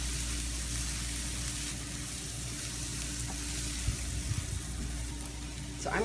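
Garlic and onion saute in a pan with steady, close sizzling and frying crackle, while a few light stirring scrapes break through near the end.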